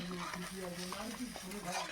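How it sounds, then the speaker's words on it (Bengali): Giant freshwater prawns sizzling in hot oil, a steady close crackle with some stirring and a faint low hum underneath. "এদিকে চিংড়ি মাছটা ভাজতে দিয়ে দিলাম"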